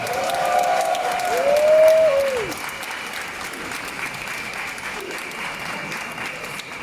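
A crowd at an outdoor pro-life march in Koper, Slovenia claps in steady applause that swells early and then holds at a moderate level, with a faint whistle or cheer near the start.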